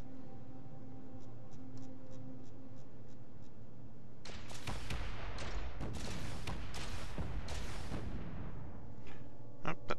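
Weapon fire striking light and heavy armor plating in Space Engineers, a rapid series of loud metallic impacts clustered in the middle of the clip over a low steady hum, with scattered ticks before and after.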